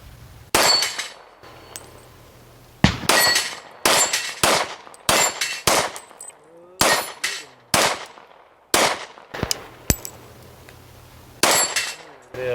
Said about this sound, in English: starting off with the Glock 23, this is a Gen 3